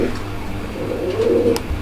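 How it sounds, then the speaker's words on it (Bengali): Pigeons at a bird market give a low, soft rolling coo that swells toward the end over faint background noise. "দর্শক আমরা এই মুহূর্তে দেখতে পাচ্ছি আরো এক জোড়া কবুতর"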